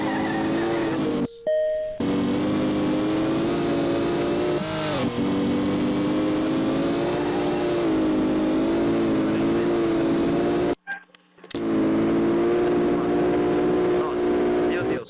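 A VW Gol GTI engine revs hard and accelerates in loud, sustained roaring sweeps with a couple of abrupt cutoffs, close and dominant, while voices call out over it.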